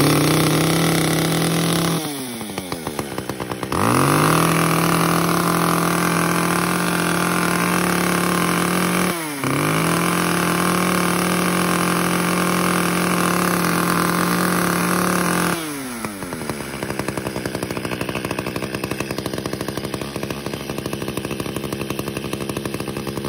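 A two-stroke chainsaw engine runs on a gas-oil mix, droning loud and close throughout, with a few dips and revs as the throttle changes.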